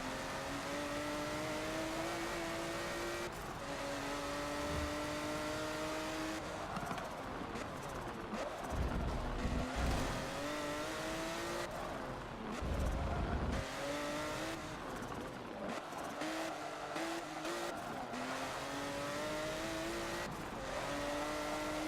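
Race cars in Forza Motorsport 7 drone steadily with engines rising and falling through gear changes, while rival cars pass with brief rumbling swells, all continuous without talk.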